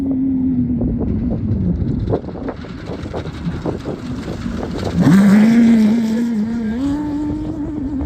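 An off-road race vehicle roars away from the start of the Vegas to Reno desert race, its engine droning steadily and rising sharply in pitch and loudness around the middle as it accelerates, with wind buffeting the microphone.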